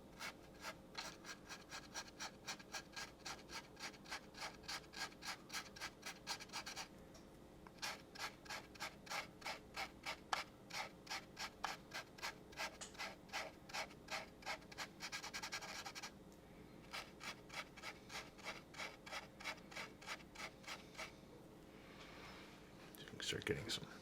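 Rhythmic scrubbing over paint on a P-40F Warhawk model kit to lift chipping, a steady back-and-forth rasp repeating in quick strokes with brief pauses, close and fairly soft.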